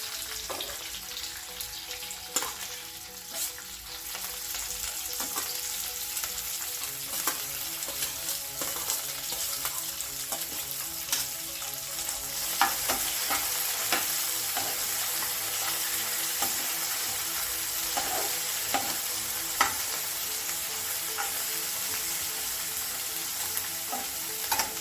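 Green tamarind and coriander frying in a pan, a steady soft sizzle with scattered stirring clicks and scrapes running throughout, close and even in level with no voices.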